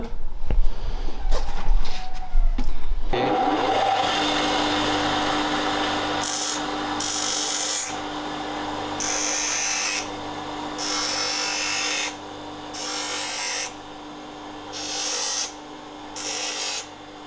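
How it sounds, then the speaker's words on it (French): An angle grinder shapes a cut metal piece in a workshop, a loud steady whine that rises and eases in repeated passes as the disc bears on the metal, with handling noises at the start. "on va aller directement vers la meuleuse"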